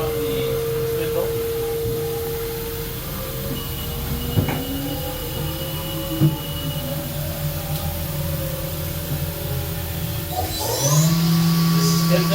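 Haas VF-2SS CNC mill spindle spinning at 10,000 RPM, recorded from about a foot away: a steady, fairly quiet machine drone with a sustained whine, a couple of brief clicks, and a rise in pitch and level near the end.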